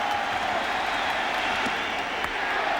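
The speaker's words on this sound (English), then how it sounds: "Crowd climbs back into it with 2 out" Baseball stadium crowd at a 2001 playoff game between Oakland and the New York Yankees, a steady broad roar of cheering and applause with two out and two strikes, sustained without breaks.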